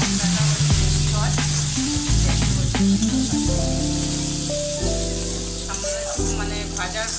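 Tomato paste masala for egg curry fries in a pan with a continuous sizzle, partly covered by steady music playing throughout.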